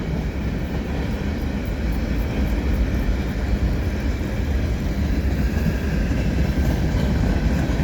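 A CN freight train with locomotive 3233, the Veteran's Tribute unit, rolling by as a mid-train DPU: a continuous heavy low rumble and wheel roar, loud and close, steady throughout without talk.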